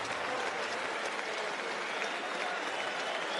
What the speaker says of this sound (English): And listen to this applause from the crowd.